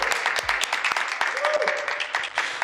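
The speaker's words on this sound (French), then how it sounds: "Et ça mérite les applaudissements à l'équipe." A small group claps for the team, scattered hand claps sounding close and fairly loud while people keep talking over them.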